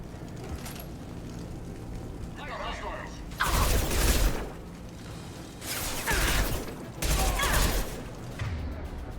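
Gunfire in the video game Mass Effect 2, with True Sons and Vorcha shooting during a combat encounter: several loud bursts of rapid shots, separated by quieter stretches with game sounds and voices.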